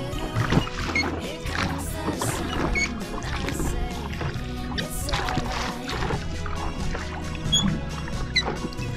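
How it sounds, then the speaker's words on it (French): Oars working a rowboat in Saint-Florent harbour, Corsica, with a steady wash of water and scattered splashes and drips over a busy background, fairly close. "Alors, le fait de ramer,"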